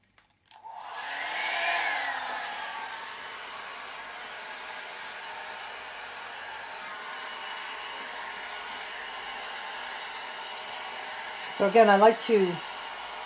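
A hair dryer blows steadily to dry alcohol ink on an aluminum sheet, a loud close airy whoosh that starts abruptly and runs on evenly, with a person speaking briefly near the end.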